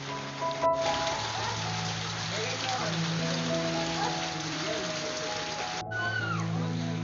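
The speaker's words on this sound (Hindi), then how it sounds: "हल्की हल्की सी बारिश है" Light drizzle falling outdoors among flowering plants, a steady soft patter of raindrops throughout with tonal hums and a person speaking over it.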